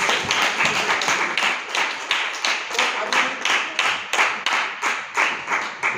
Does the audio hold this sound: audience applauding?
yes